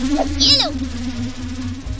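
Mosquitoes whine with a steady, thin buzz that runs throughout, with a brief swooping tone near the start and a short spoken voice over it in an animated scene.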